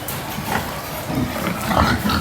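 Pigs being raised for fattening on a farm on an overcast day, grunting and snuffling close by in a dense, continuous rumble with a few sharper squeals mixed in.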